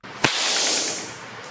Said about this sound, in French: Vous avez entendu le claquement du fouet?